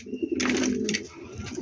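Bluebar pigeons just back home coo up close in a low throaty warble, loud and steady, mixed with brief rustling bursts and no voices.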